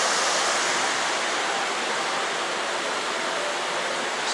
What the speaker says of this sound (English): You can see the propeller wash here.